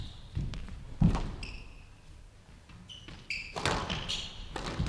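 A squash ball is struck in a men's national championship quarter-final and the shot is mishit, giving scattered thuds, taps and squeaking shoes on court, with light crowd noise.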